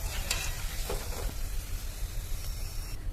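Papad frying and puffing up in hot oil, a steady close sizzle and bubbling that carries on throughout with a few brief brighter crackles.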